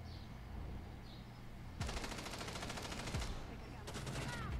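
Automatic rifle fire from Rainbow Six Siege Mobile, several loud sustained bursts of rapid shots cutting in abruptly, with quieter game ambience and faint tones between them.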